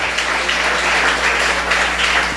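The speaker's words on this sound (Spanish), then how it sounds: "Dale un fuerte aplauso al Rey." Steady, dense applause from a church congregation during a Christian worship program, loud and continuous with no gaps throughout.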